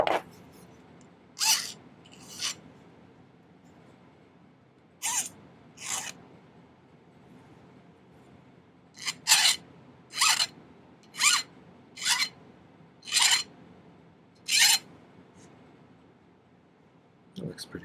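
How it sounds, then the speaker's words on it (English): A metal file rasps against a freshly cut edge on a small craft piece in a series of short, close strokes, some single and some in quick runs, separated by quiet pauses. "Kind of file it so it kind of just smooths in there like that."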